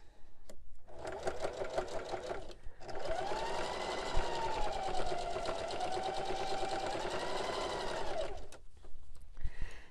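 Sewing machine stitching the last edge of a fabric soup bowl cozy, a fast, close mechanical rattle that runs for several seconds between brief pauses, with no talking over it.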